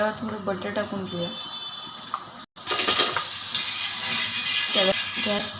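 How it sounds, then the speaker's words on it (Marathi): Butter melting and sizzling on a hot tawa griddle for cheese herb toast, a crackling hiss that swells after a short break and continues steadily while someone talks over it. "आता तव्यावर थोडं बटर टाकून घेऊया."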